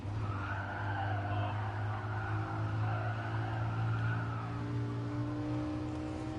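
Lamborghini in the game Just Cause 4 driving with a steady engine drone and skidding tires, a continuous loud car sound throughout with no talk.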